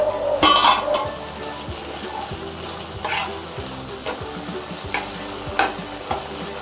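Ladies finger (okra) sautéing in a pan for vendakkai masala, with a steady soft sizzle under repeated scraping and clinking stirring strokes, close and fairly loud, no voices.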